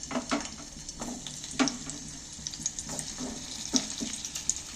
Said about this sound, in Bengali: তেলটা গরম হয়ে গেছে এইবার আমি পটলগুলো তুলে দিচ্ছি তেলের মধ্যে